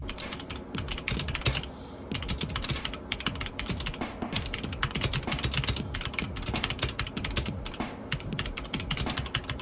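Steady, fast typing on a rainbow-lit computer keyboard, close and clear, with dense continuous key clatter and a brief pause near two seconds, no talking.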